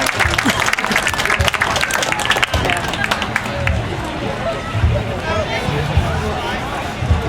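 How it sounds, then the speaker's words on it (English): A crowd at a medieval fair claps for a costumed entrant, brisk applause mixed with murmuring voices and crowd babble, loud and close, easing slightly toward the end. "Ladies and gentlemen, give our lady entrance a big round of applause."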